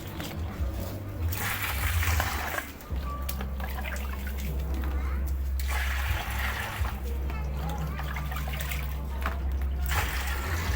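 Water being fetched and poured into a drum, with steady splashing and running water close by that continues through the whole stretch and briefly dips partway through.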